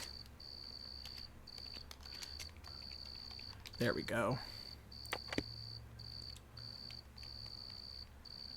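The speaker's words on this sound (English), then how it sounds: "you can hear the crickets starting up" Crickets chirp in a video game, a steady high-pitched pulsing trill repeating in regular bursts, with a brief speaking voice and a few soft clicks partway through.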